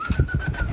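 Pigeons in free flight make brief, soft, rhythmic sounds close by, all over in under a second.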